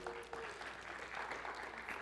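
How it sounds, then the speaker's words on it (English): Faint audience applause during a lecture, a short spell of steady clapping from a distant crowd with a brief tonal sound near the start. "Everybody give her a round of applause."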